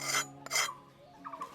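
Mouth end of an oyster shell scraped against a blade, village style, with two short close rasping strokes and a fainter third scrape, with no talk.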